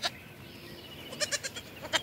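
Goat kids bleat on a farm in the quiet afternoon countryside, sending out several short, faint calls in a loose cluster near the end, with one brief call at the start.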